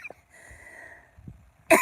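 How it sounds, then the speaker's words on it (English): A single short, sharp cough bursts out near the end after a quiet stretch, close and fairly loud, with no other talk. "Excuse the cough"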